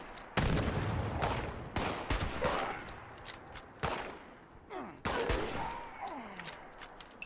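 Gunfire and explosive bursts from the Fallout 76 video game, including a grenade blast, crack out in several loud, sharp volleys with short gaps between them.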